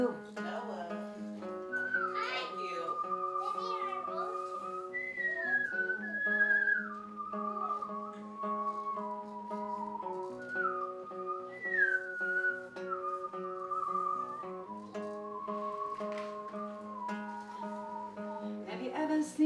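Someone whistles a slow, wandering melody over sustained musical tones, clear and close, with long gliding notes and brief pauses between phrases.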